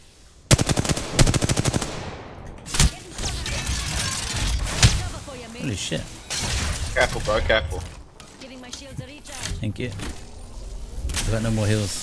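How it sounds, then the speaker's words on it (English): Automatic gunfire in the video game Apex Legends, starting with a rapid close burst of shots, followed by scattered single shots and impacts, with players talking over it throughout. "someone's shooting you from left"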